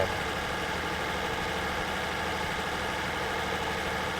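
A Freightliner Cascadia truck engine idles in the video game Truck Simulator: Ultimate, a steady, low rumbling drone, constant and unchanging throughout, with no voices.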